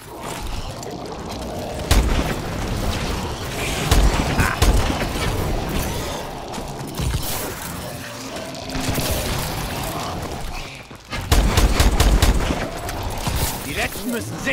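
Gunfire in the video game Call of Duty Advanced Warfare, infection mode, with loud bursts of rapid automatic shots and heavy impacts throughout, while a voice talks over the action.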